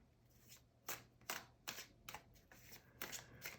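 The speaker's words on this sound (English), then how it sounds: "I'll go ahead and get started with the shuffling." Tarot cards are shuffled in a series of soft, crisp riffles and flutters, about eight bursts in quick irregular rhythm, close and quiet with no talking.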